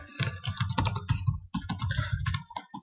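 Rapid typing on a computer keyboard while entering C code: a steady run of close, crisp key clicks with a brief pause midway before the tapping resumes.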